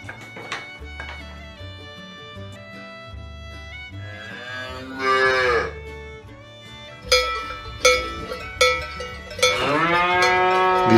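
A dairy cow on a farm lets out several long, loud, deep moos in sequence, close and harmonic, with a gentle cowbell clanking steadily beneath and no talk.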